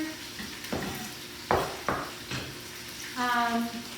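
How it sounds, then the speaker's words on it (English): Butternut squash soup ingredients with apple being stirred in a pot, a few distinct scraping strokes and clatters near the spoon, fairly quiet, ending with a brief tonal ring. "Stir everything together."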